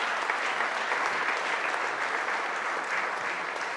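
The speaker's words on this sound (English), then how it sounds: "Let's give Mike a round of applause" Sustained audience applause for Mike at a community meeting, a close, even, dense roar of many hands clapping with no talk over it.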